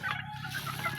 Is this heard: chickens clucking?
yes